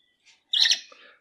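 A pet parrot gives a soft brief peep, then a louder bright chirp that trails off while being stroked on the head, close and alone.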